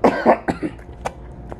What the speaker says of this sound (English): I'm trying to get rid of this cough, y'all.